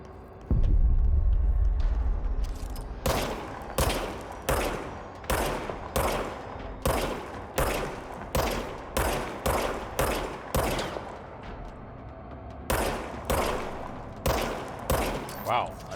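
Rapid gunfire from a handgun in the video game Control, a long run of sharp, evenly spaced shots in quick bursts with brief pauses, loud and close, after a deep low rumble at the start.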